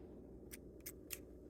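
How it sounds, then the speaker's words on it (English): Scissors cutting yarn for a Christmas gnome craft: a handful of light, close snips spaced unevenly over a soft background hiss. "cut our yarn"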